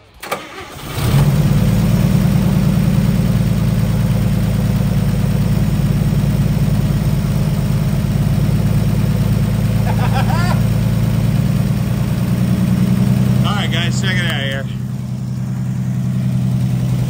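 A 1955 Chevy car engine, back running after 40 years off the road, catches and settles into a loud, steady idle close by, with a slight dip in revs toward the end.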